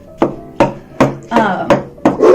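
Shortening being cut into pieces for bread dough, six sharp knife chops on a board at a steady, roughly half-second rhythm, close and loud with no talk.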